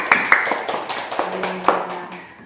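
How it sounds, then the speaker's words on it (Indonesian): Students in a classroom clap hands in a loose, scattered burst, several sharp individual claps at uneven intervals that thin out and fade toward the end. "Kita beri tepuk tangan dulu untuk videonya"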